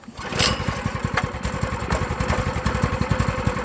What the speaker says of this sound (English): You can see it is idling good.